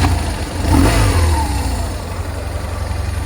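Fuel-injected 1200cc boxer twin of a 2008 BMW R1200GS adventure motorcycle running close by, a steady low engine drone that swells briefly near the start and then settles into an even rumble.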